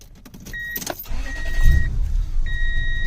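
Toyota Tundra V8 pickup from the 2000–2006 era with the fuel pump relay removed: a starter cranks with a whine and chime tones, then the engine briefly catches and rumbles close by before settling, with no talk.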